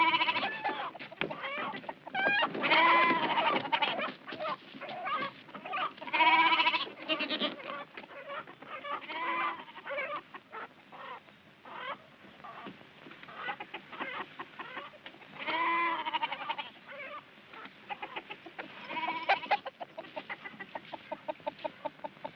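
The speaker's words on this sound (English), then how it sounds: "Now, what set off those goats and chickens?" Agitated goats bleat and chickens cluck and squawk in a busy farmyard din from a 1978 film, overlapping cries rising and falling in bursts at moderate distance, with rapid clucking near the end.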